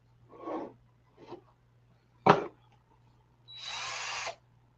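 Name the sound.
cordless screwdriver or drill running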